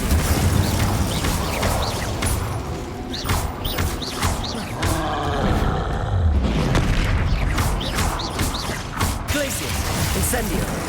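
Fire and combat spells cast in Hogwarts Legacy, a dense run of magical booms, whooshes and crashes layered over continuous game music and effects, with a voice calling out spell names throughout.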